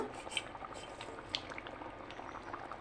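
A pot of curry with potatoes bubbling at a steady boil, soft continuous gurgling with small pops close by, fairly quiet, for a Bengali fish curry.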